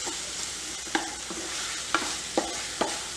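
Cashew barfi pieces stirred into paneer masala gravy, a constant sizzle broken by four distinct scraping strokes of a spoon against the pan.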